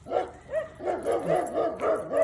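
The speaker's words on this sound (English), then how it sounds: "I'm gonna get past these dogs that are" Several dogs bark close by on a quiet residential street, a steady run of sharp, repeated yaps and yips with some whimpering between them.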